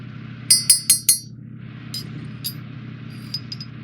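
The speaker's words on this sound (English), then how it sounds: "give it a quick stir" A metal spoon stirs inside a heated smart mug and taps it four quick times, bright close clinks followed by a few lighter scattered ticks.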